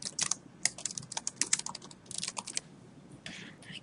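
Quick bursts of typing on a computer keyboard, close and crisp, with irregular clusters of key clicks that slow to a few scattered taps near the end, no voices.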